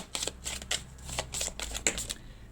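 Oracle cards being shuffled and handled, several quick papery riffles and flicks in close succession, soft and near.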